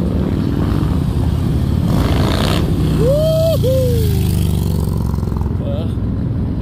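A loud motorcycle engine drones steadily and close by, a dense continuous low rumble filling the whole stretch, with a brief rising whistle-like tone cutting through near the middle.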